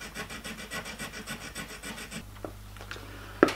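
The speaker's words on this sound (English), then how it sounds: "So I've got a diamond lapping plate here, so I'm just going to smooth the sides of the cutter before heat treatment." A cutter's sides being smoothed on a diamond lapping plate: a steady run of rhythmic rasping rub strokes for about two seconds, close up, followed by quieter scattered scrapes and a sharp knock at the end.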